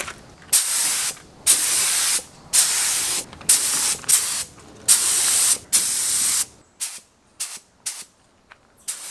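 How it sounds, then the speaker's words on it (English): Paint spray gun applying car paint to a crashed Porsche 997 Turbo race car being rebuilt: about a dozen sharp hissing bursts, longer and evenly spaced at first, then shorter and quicker, with near-silent gaps between. "Initially, the paint gun was spraying great, as you can see here"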